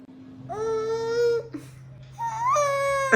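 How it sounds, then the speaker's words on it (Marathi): An infant cries in short, wailing bursts with a brief pause midway, close and fairly loud, with a steady low hum underneath and no speech. "बघा नाही दिलं तर रडतोय तो"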